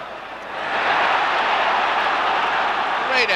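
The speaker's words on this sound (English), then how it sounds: "and the crowd rise to it" A Sunderland football crowd roars for a hat-trick goal, a broad, sustained wash of cheering that swells in after a quieter start and holds steady to the end.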